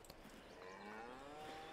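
Cows on a farm in Farming Simulator 22 give a faint, drawn-out moo that rises and falls, quiet against a low background with a few soft knocks.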